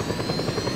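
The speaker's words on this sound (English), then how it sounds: "Hey look, it's the attack helicopter. Enter the helicopter." Close, loud, rapid rotor chop of an attack helicopter in Just Cause 2, a steady pulsing beat with no talk.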